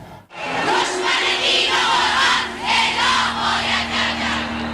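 A large crowd fills the streets of Tehran, chanting loudly for Salman Rushdie's death in a continuous, swelling roar of massed voices.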